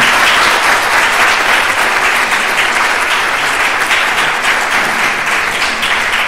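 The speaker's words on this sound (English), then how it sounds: "Does anyone want to give Mudher a massive round of applause spontaneously?" An audience at a hospital grand rounds session breaks into loud, dense, sustained applause that holds steady throughout, with no talk over it.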